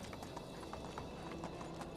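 Steady clip-clop of a horse's hooves on the ground in the medieval game Medieval Dynasty, evenly paced and fairly quiet, with no voices over it.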